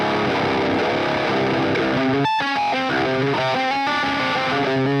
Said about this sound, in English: I am reamping the tone for my EC1000 with Seymour Duncan pickups going into the NATAS, then into the orange tiny terror